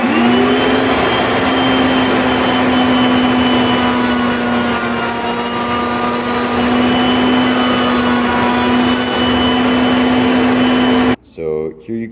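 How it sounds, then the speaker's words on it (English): A router on a JessEm Mast-R-Lift II router table cuts wood with its dust vacuum switched on, a loud steady high whine for about eleven seconds before cutting off abruptly. "You'll notice that the vacuum turns on automatically when we turn the router on."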